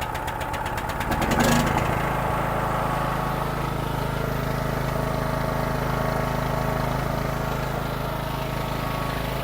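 A SUPTECH 35 portable generator runs steadily at close range after its first start, a brief louder surge near the beginning settling into a constant droning engine hum with faint knocking.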